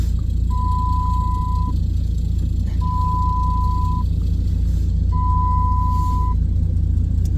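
A truck reverses with three evenly spaced long electronic beeps, each lasting over a second, over a constant loud engine rumble.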